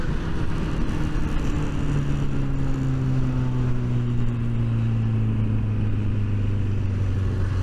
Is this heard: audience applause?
no